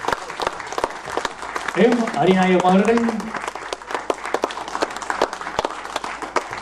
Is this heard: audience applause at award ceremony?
yes